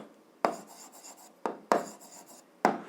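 Pen or marker strokes on a board or paper while a diagram is drawn by hand, four sharp taps each trailing into a short scratchy rub, spaced irregularly and close up, with no talk.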